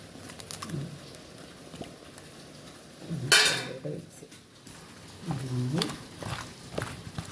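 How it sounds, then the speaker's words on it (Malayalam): An egg is mixed into fried breadfruit in a bowl: clinking and scraping of a spoon against the dish comes in short bursts, with a person talking over it at times. "ഞാൻ ഇതിലേക്കൊരു മുട്ടയും കൂടെ അടിച്ച് വയ്ക്കുക"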